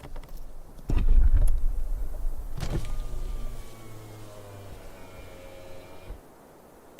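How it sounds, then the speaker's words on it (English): Car window rolled down, a sharp thump followed by a smooth whirring electric motor that glides for a few seconds and then stops, heard up close in a quiet roadside setting. "rolls down his window."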